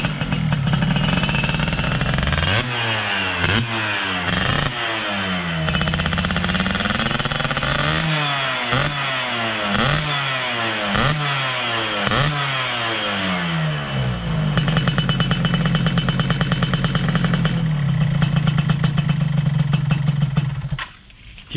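A motorcycle engine is revved hard and close, with a series of loud rising and falling revs that give way to a sustained high drone before cutting off abruptly.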